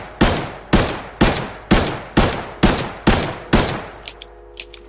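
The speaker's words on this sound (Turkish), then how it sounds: "Hızlı atış etmeye çalışalım." A new gun fired in rapid succession in the shooter game Arena Breakout: eight loud, evenly spaced close shots about half a second apart, followed by a few faint clicks and rattles.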